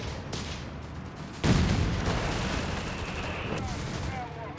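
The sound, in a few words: gunfire in Company of Heroes 3 video game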